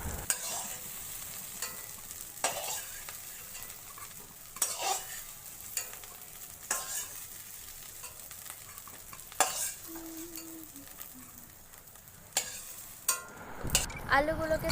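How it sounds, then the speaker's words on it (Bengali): Boiled potatoes with a little turmeric fry in a kadai, with a soft hiss of oil under repeated scraping and clinking as a spoon turns them. The stirring comes in uneven bursts, close and fairly quiet, with no talk. "আমার এখানে দেখো আলু প্রায় ভাজা হয়েই গেছে।"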